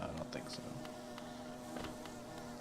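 Bees buzz steadily in the Hollow Knight video game near the hive area, a dense insect drone that runs throughout under faint background speech.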